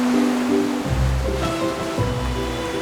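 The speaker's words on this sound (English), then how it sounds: "take a look at this gigantic," Large ocean waves roll in below a seaside villa terrace, with deep surging rumbles rising and falling in steady swells at moderate distance.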